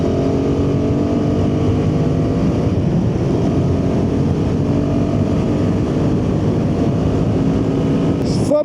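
A Royal Enfield Himalayan 450 motorcycle engine accelerates under a rider, a loud, continuous drone with rising, layered harmonics and rushing wind across the whole stretch, ending with a brief clatter.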